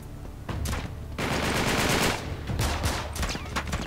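Rapid automatic gunfire in the video game Uncharted 3, loud and close, with dense bursts of shots chattering over a rumbling battle din, a short lull near the middle, then more firing.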